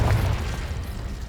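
A Confringo spell explodes in the video game Hogwarts Legacy, a single loud, low booming burst that rolls off over about a second.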